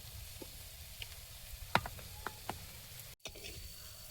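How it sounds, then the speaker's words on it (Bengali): Prawns fry in raw mustard oil with a continuous low sizzle, broken by scattered sharp ticks and pops and a short pause near the end. "চিংড়িটা ভাজা হয়েছে, তুলে নিচ্ছি।"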